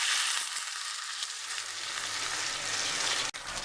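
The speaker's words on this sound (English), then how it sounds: "I'm going to deglaze that with some red wine." Red wine poured into a hot, sticky pan with onions, erupting into a loud continuous sizzle and hiss that holds steady, ending with a sharp knock.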